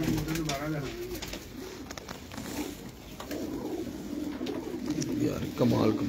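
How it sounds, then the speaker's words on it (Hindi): Sialkoti pigeons coo in low, rolling phrases close by, repeating through the stretch while a voice talks over and around them. "देखें सियालकोटी कबूतर है, अच्छे कबूतर"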